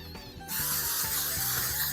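After a brief quiet moment, an aerosol can sprays in a sustained loud hiss, close by, with a low hum in the background.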